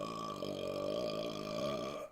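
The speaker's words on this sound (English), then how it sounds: "He does these weird like hiccup burps" Loud, drawn-out hiccup burp from a man, one continuous guttural belch lasting about two seconds, close up and alone.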